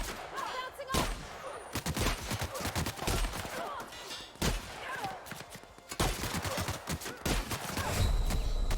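Repeated shotgun blasts in the video game The Outer Worlds, a rapid series of sharp loud bangs spaced about a second apart amid other combat noise.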